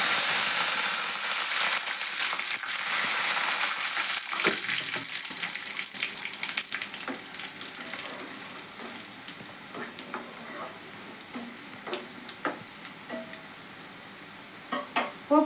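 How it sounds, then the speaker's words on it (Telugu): Curry leaves and two dried red chillies crackle and sizzle in hot oil for a mango dal tempering, a loud, dense, continuous frying hiss with scattered sharp pops that thin out toward the end. "కొద్దిగా కరివేపాకు వేస్తున్నాను."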